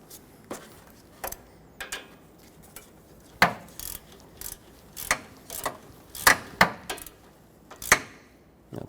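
A ratchet clicks in short irregular bursts while a mounting nut is tightened on an AC line of a 2000-2005 Ford Excursion, close and crisp, with pauses between the strokes.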